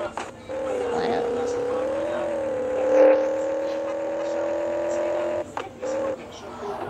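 Car engine droning steadily in a video game while driving, a sustained buzzing hum with slight pitch swells and one brief rise, cutting out near the end, with a voice talking over it.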